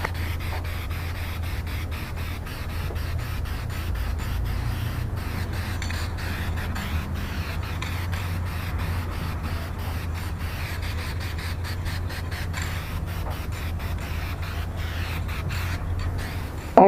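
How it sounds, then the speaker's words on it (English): A Ford Maverick quarter panel is sprayed black, giving a steady, continuous hiss of spray paint held close for the whole stretch, alone and unbroken. "I'm just gonna spray this whole thing black"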